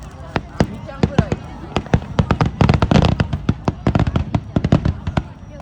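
Fireworks burst in a long, dense barrage outdoors, sharp loud cracks and booms following one another rapidly with crackling between them. Spectators can be heard chatting faintly underneath.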